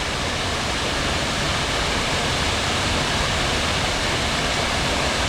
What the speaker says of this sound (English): That is one stunning waterfall.